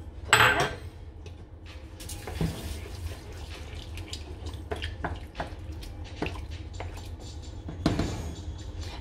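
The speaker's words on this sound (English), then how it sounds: "now 250 gram of the red lentils. You just put it in." Dry red lentils pour into a soup pot with a rattling patter, mixed with clinks of pots and utensils in a kitchen, all at a modest level with brief louder clatters at the start and near the end.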